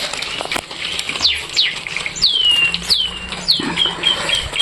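Pigeons coming down to feed, with bursts of flapping wings and a few sharp chirps scattered over several seconds, close and fairly loud against light background noise.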